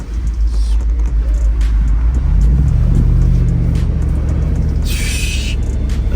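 A Jeep Wrangler 392 plows through a big puddle, a heavy low engine rumble swelling as the tires hit the water and a brief bright splash burst near the end, loud and close.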